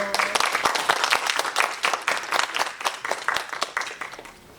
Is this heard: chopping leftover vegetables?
no